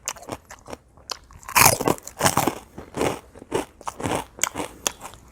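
Crunchy Lao papaya salad being bitten and chewed close up, a steady run of loud crisp crunches and wet mastication bursts repeating roughly every half second with no talk.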